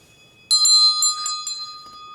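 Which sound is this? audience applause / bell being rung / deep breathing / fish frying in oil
bell being rung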